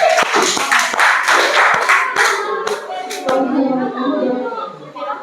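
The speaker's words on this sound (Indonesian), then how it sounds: "Ya, tepuk tangan dulu." Classroom clapping as students applaud a group before its presentation, a burst of close, sharp hand claps that thins out to a few scattered claps, with voices murmuring underneath.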